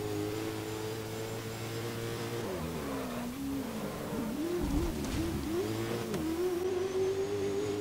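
A supercar in the GRID racing game drives hard, its engine holding a steady drone, then dropping and swooping through braking and downshifts before revving back up, loud and close throughout.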